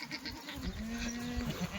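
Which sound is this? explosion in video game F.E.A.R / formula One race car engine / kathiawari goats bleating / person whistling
kathiawari goats bleating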